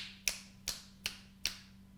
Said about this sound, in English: let's snap our fingers